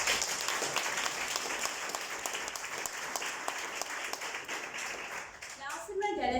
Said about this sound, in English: you need to give yourself a round of applause for it.